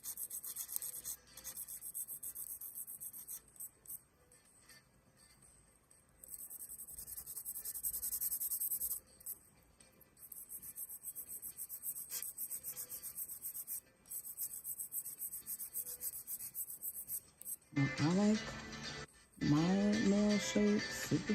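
An 80 grit nail file rasping across nails in steady, close back-and-forth strokes with brief pauses, ending with a few louder higher scrapes.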